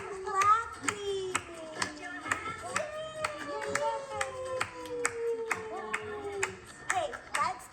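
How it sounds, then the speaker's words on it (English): Hands clapping in a steady rhythm during a baby clap song for infants, sharp regular claps over a sung melody with a voice mixed in. "We are clapping."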